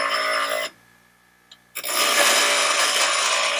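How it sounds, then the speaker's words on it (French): A power grinder cuts into a flat wrench, loud harsh whine at first, then a sudden drop to near silence for about a second with a small clink, before the grinding screech resumes and holds to the end. "il meule la clé plate pour pouvoir passer tout facilement"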